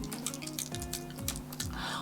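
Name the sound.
taking a drink of water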